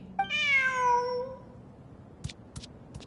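A cat in Genshin Impact gives a single clear, drawn-out meow, followed by a few faint soft clicks in an otherwise quiet scene.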